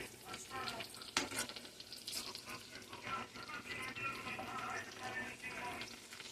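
Triangle-sliced sausages frying over a fire and being flipped in the pan, a quiet continuous sizzle with scattered clinks and scrapes of turning, faint and without talk.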